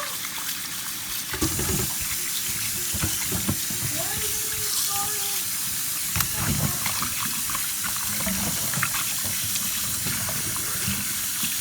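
Running tap water splashing steadily as food is rinsed underneath, a continuous close wash of water over the whole stretch, with brief clatters and faint background voices mixed in.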